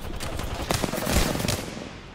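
Rapid gunfire in the Apex Legends battle royale game, a dense burst of repeated shots lasting about two seconds, fairly loud and close, with no talk over it.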